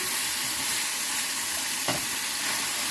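Bacon frying in a pan, a dense, steady close sizzle with one brief tap partway through.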